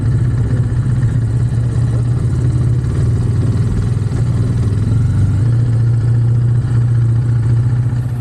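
A 2024 KTM 500 EXC-F 500cc dirt bike engine runs steadily at a loud, close, even pulse, with a constant low throb and no talk.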